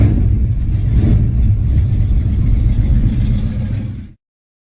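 Chevrolet Chevelle muscle car, a black one nicknamed Black Beauty, engine running with a loud, deep, close rumble and revving that holds steady for about four seconds before cutting off abruptly.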